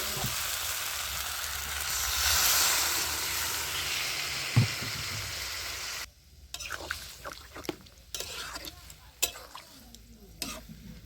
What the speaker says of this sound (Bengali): এবার আমি একটু পরিমাণ মতো জল দিয়ে দিচ্ছি